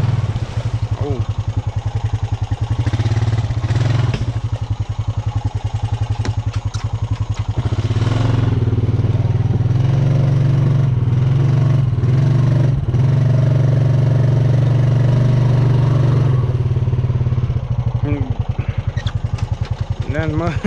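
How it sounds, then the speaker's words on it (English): A motorcycle on a rainy ride strains up a muddy hill among tree roots, its tires spinning in the mud. The engine drones and revs loudly and close the whole time, with a low rumble and clattering bursts. "The tires are just spinning in the mud because they won't go up the hill good."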